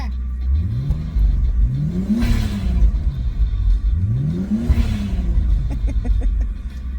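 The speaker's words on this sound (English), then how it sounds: "boys are wanting me to rev the car" A Nissan Skyline R33 engine revs twice in quick succession, each throttle blip rising and falling in pitch over a deep, steady idle rumble, close and loud.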